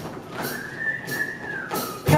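In a song, a single clear whistled note is held steadily for about a second, framed by short bursts of accompanying music, with no talking.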